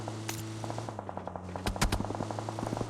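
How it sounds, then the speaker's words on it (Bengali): Rapid machine gun fire in the mobile battle royale game PUBG Mobile, a fast rattling string of shots over a steady hum, with a few louder nearby bursts toward the end. "ওরে ফায়ার দিছে রে"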